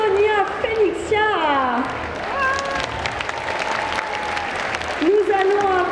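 A crowd at a cosplay contest at a geek festival applauds and cheers for the contestants, steady clapping under a host's amplified voice, which carries over the noise throughout.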